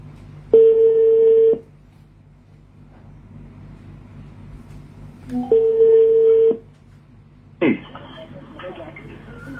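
A telephone being dialed to place a call gives two sustained tones and a shorter third burst, separated by quiet gaps, with a faint room background in between.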